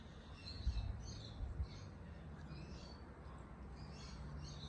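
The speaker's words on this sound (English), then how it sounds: "birds in the background, we got airplanes." Birds chirp faintly in the background outdoors, small scattered calls high above a low rumbling hum of distant airplanes and ambient noise, with no voices present.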